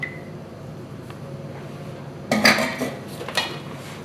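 Egg being whisked into foam in a bowl for a cranberry bun dough, starting about halfway with a run of quick, irregular clinking taps of the whisk against the dish, moderately close with no talk.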